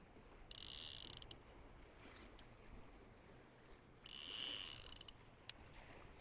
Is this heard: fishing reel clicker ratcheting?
yes